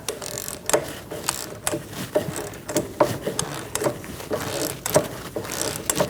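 A hand wrench tightens a sway bar link nut on a 2000-2006 Mini Cooper, giving a quiet series of ratcheting clicks and metallic taps in an irregular rhythm, close by and without speech.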